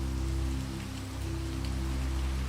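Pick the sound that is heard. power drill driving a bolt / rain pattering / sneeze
rain pattering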